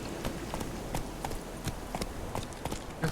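A horse galloping in The Witcher 3 video game, its hooves beating out a quick, steady clip-clop rhythm over a low background rumble, moderately close.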